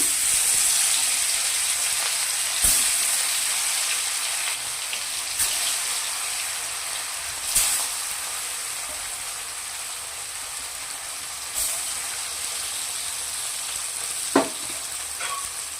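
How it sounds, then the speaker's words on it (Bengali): Fish coated in salt and turmeric sizzle steadily in hot oil while being fried for a katla fish kalia, a continuous crackling hiss broken by a few sharp pops and spatters. "নুন হলুদ দিয়ে মাখা মাছগুলোকে আমি প্রথমে ভেজে নিয়েছি।"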